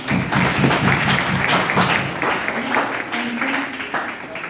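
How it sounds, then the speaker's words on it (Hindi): Audience applause at a college inaugural ceremony welcoming a new principal, a steady wash of clapping from many hands. It fades partway through as a voice begins speaking over it. "हमारे महाविद्यालय का, हमारे नए प्राचार्य का एक बार जोरदार ताली का स्वागत करें।"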